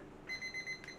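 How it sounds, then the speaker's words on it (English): A kitchen timer alarm goes off when Irish scones finish baking, giving a run of about four short electronic beeps followed by a couple of shorter chirps. It is fairly faint against a quiet room. "yes, that was our alarm going off to say that we were done."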